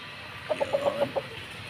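Young three-month-old cockerels give a short run of about six quick, soft clucks close by, with no talking over them.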